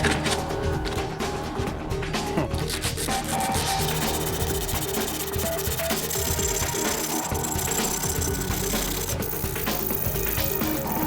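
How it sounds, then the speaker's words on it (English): Sandpaper rubs steadily and continuously across a small stainless steel keyring knife, with a close, loud, unbroken rasping. "So next stage, here we go. Sandpaper."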